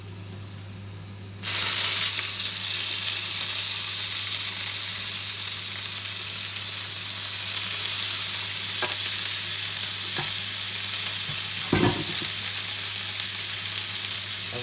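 Beef drops into a hot pan and starts frying. A loud, steady sizzle bursts in after a quieter opening and carries on throughout, with a few clatters of stirring and no talk.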